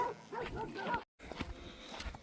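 A puppy on a farm with sheep gives a few small yips and whimpery barks, close and fairly quiet, broken by a brief silent gap.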